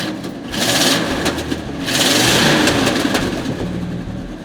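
A 1967 Ford camper special truck's not-yet-warm engine with a sticky choke runs close by, surging into two strong revs with a rough, uneven idle between them, and no talking.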